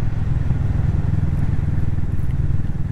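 Kawasaki Vulcan S cruiser with the parallel-twin engine shared with the Ninja and Versys, a loud, continuous, close engine rumble rising under acceleration throughout, with no talking.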